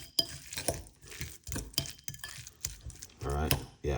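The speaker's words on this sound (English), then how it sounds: "Mix that around." Avocado salad seasoned with black pepper is tossed in a bowl, giving a series of close, uneven scraping and clinking strokes of a utensil against the bowl over about four seconds, with a louder burst near the end.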